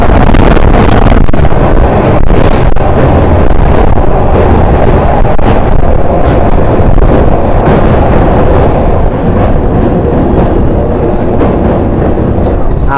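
A local train on the Kolaghat bridge, heard from on board as a loud, steady rumble of rails and wind noise that runs throughout with no talking.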